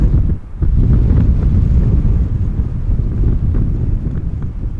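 Strong crosswind gusting at Amsterdam Schiphol Airport, a loud, steady roar of wind buffeting the microphone for the whole stretch after a brief lull near the start, with no talk.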